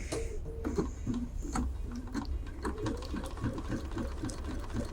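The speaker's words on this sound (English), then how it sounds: "I'll start stitching and show you what you're looking for." A Bernina sewing machine stitches steadily, its rapid mechanical whirr and rhythmic needle ticking close and continuous, with a brief pause partway through.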